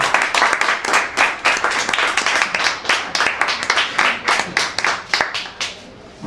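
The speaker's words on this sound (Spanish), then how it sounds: "un aplauso para Luis Martínez de Merlo" An audience claps for a speaker being introduced at an evening literary event about Aníbal Núñez, a loud, close burst of many hands in quick, slightly rhythmic waves, dying away at the end.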